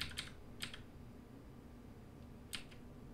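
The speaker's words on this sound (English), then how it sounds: "using the arrow keys plus the Shift key, we can quickly move those points off to the right" Keyboard keys being pressed during Inkscape vector drawing work, three short separate clusters of quick clicks at close range, quiet and alone over a faint room hum.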